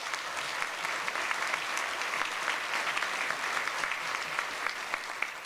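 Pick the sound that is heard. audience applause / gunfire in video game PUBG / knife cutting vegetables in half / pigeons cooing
audience applause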